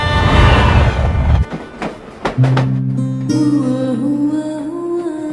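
A train in a Telugu action film rumbles loudly along the rails, then a few sharp clacks follow as the noise falls away and steady music takes over.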